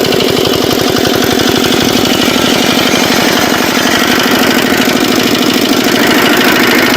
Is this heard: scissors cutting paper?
no